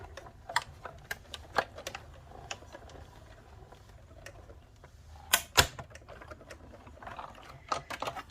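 A die cutting machine working through white card stock makes a string of faint, sharp ticks and clicks at an uneven pace, with a couple of louder snaps near the middle, set against a quiet room.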